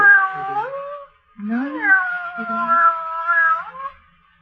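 A cat meows in an old-time radio drama, two long drawn-out wailing cries separated by a short pause, loud and clear with no talk over them.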